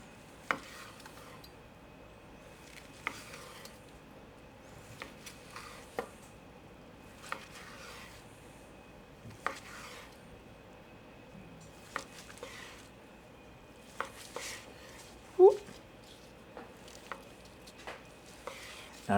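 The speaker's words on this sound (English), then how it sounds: "cutting it open is going to just be one of those things where we're just gonna slice it and see what we can get" A knife slices through a smoked chuck roast, producing a series of faint, sharp taps on a cutting board at irregular intervals, quiet and close with a low background hum.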